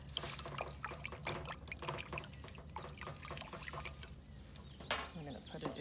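Hand sanitizer pours through a funnel into a cleaned-out soap dispenser, a close, uneven trickle with drips running throughout, under faint background noise.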